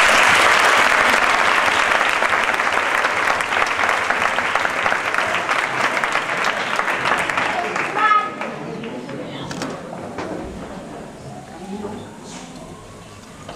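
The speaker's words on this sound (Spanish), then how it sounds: "Un aplauso, por favor." A graduation audience fills a hall with loud, sustained applause and cheering that gradually thins out, leaving scattered claps and murmuring crowd chatter.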